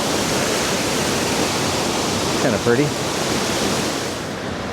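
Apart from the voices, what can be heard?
water flowing over a controlled water drop on a lake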